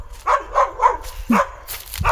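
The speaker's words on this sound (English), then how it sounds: "you see that crazy dog there?" A dog in a Kenyan village barks repeatedly, four or five sharp, fairly close barks in an uneven rhythm, with faint background noise between them.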